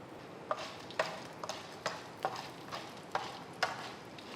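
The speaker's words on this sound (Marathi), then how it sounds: "हे जो मोठा मोठा मसाला आहे तो आपण परतून घेऊया" Whole sambar masala spices dry-roasting in a spoonful of oil, with a soft, steady sizzle broken by quiet, regular scraping strokes of a spatula, about two per second, close by and fairly faint.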